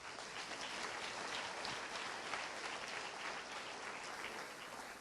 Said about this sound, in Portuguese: O ex-padre Renato está aplaudindo Jesus.